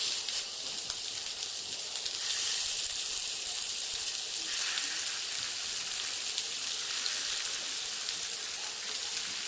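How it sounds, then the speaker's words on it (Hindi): Seekh kebabs frying in shallow oil in a pan make a steady, close sizzle and hiss that holds evenly throughout, with no talking over it. "अब एक एक करके हम अपनी सीख को इसके अंदर रख देंगे।"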